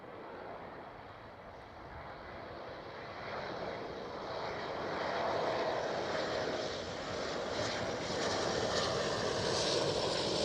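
A KLM Cityhopper Embraer E195-E2 jet at Schiphol makes a loud, steady engine roar that grows slightly over the clip, with wind noise on the microphone and no voices.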